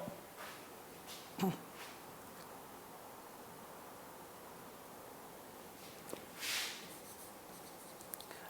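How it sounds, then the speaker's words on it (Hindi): Steady soft scratching of chalk or marker writing a sentence on a board in an English grammar lesson, continuous and low over a hissy room background with a couple of louder bumps. "मैं लिखता हूं"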